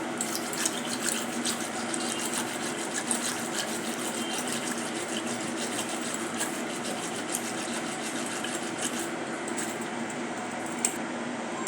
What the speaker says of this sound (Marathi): तर बघा तर फ्रेंड्स, अशा प्रकारे मी पाणी घालत आहे।